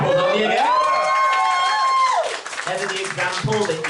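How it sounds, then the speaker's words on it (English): Audience at a comedy club applauding and cheering for an opener, a loud crowd of claps and whoops with a sustained tone and voices mixed through. "Can we all give a round of applause Umbi again?"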